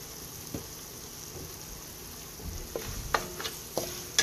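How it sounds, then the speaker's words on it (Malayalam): Ginger pickle masala with chili powder and asafoetida is stirred in a hot pan with a low sizzle, then sharper spoon clicks and scrapes come in a loose rhythm during the second half. "എല്ലാം കൂടെ നല്ലതുപോലെ ഇളക്കണം"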